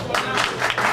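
Audience in a hall clapping and cheering at a traditional cultural gathering, a brief burst of dense applause with crowd noise swelling and fading over about a second.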